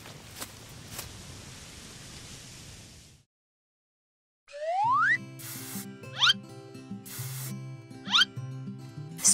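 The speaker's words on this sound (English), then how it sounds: "Spray some water to soothe your back first." Water spraying in a steady soft hiss for about three seconds in a stop-motion paper animation scene, followed by silence and then bouncy cartoon effects over music.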